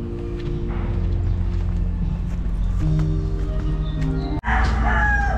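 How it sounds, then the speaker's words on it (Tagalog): A crowd of chickens with a rooster on a resort building site, a crow rising over steady clucking and a continuous hum of background noise, fairly close and loud throughout. "Ayan, daming manok dito ah."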